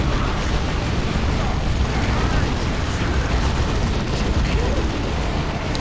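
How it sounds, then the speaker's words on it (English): A dense, continuous roar of rumbling missile-barrage explosions with crackling bursts in Dawn of War II: Retribution, like a heavy barrage pounding nonstop without any pause. "We just had like just a rain of missiles"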